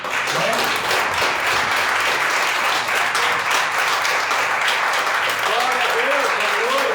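Applause from a congregation during a Lord's Supper church service, a steady sustained wash of clapping lasting throughout, with voices and faint singing tones mixed underneath.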